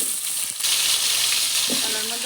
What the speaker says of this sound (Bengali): মাছ ভাজা তেলের মধ্যে আমি এই হলুদ মাখানো কলাগুলো একসাথে ভেজে নেবো